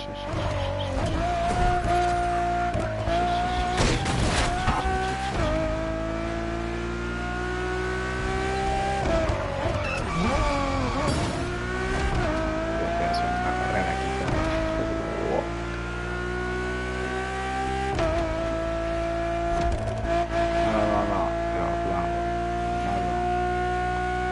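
A Ferrari road-legal hypercar, built as a Formula One car for the street, roars through the racing game The Crew Motorfest, with a loud steady engine tone rising and falling between gear changes and brief tire squeals.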